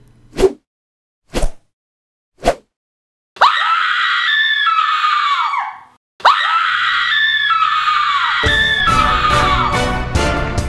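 After three sharp short knocks, a loud, piercing scream rings out, pauses, then comes again, long and shrill, trailing into rough noise.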